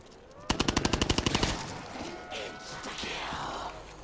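A Hitchcock gun in Black Ops zombies, played on a custom zombies map, fires a rapid burst of about ten sharp shots over roughly one second, then a softer lingering game ambience follows.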